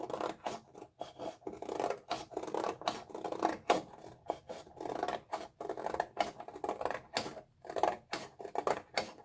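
Scissors snip repeatedly through very thick heavyweight cardstock, trimming off an edge in a run of crisp, closely spaced cuts with short pauses, close and clear with no talking.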